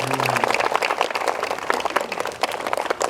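Schoolchildren applaud for a classmate named Setiawati at an elementary school ceremony, a dense and continuous patter of many hands clapping close by.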